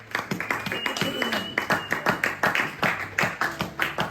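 A church congregation claps in fast rhythmic unison, loud and close in a reverberant hall, with voices and cheers mixed under the beat.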